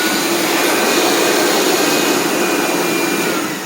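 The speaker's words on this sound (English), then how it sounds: "You can see I even used the mini car dryer to blow off all of our nooks and crannies." A compact car dryer blows filtered, heated air into tight nooks on a vehicle, a steady, loud whooshing roar that holds constant throughout with no talking.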